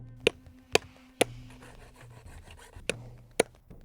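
Scraping and rasping strokes as a split animal bone is filed and shaped into a Gaya-style bone arrowhead, with several sharp clicks of the tool striking at irregular intervals over a low, continuous rubbing, close and fairly quiet.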